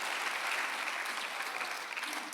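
A church congregation at a Sunday worship service claps together, a steady, fairly loud wash of applause that fades slightly at the end.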